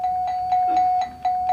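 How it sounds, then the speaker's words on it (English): An electric bell rings on the 1950s-60s panel game show To Tell The Truth to end the round, a brief steady ringing tone with a rapid pulsing shimmer. "we got ourselves a bell"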